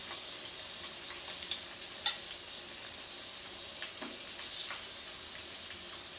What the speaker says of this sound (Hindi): इनमें से जो छोटे साइज़ के हैं वो फ्राई हो चुके हैं